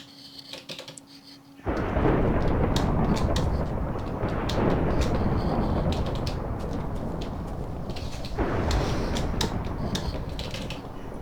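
Thunder from lightning in the video game Minecraft, loud sustained rumbling crashes that roll on for several seconds, renewing once after a brief dip.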